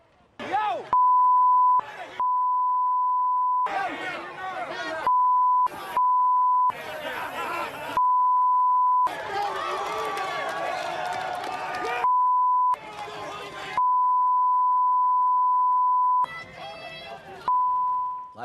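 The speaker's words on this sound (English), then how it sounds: "A lot of beeping" Repeated censor beeps, a steady single-pitch tone, cut in and out between bursts of loud crowd shouting and chatter, alternating in irregular stretches throughout.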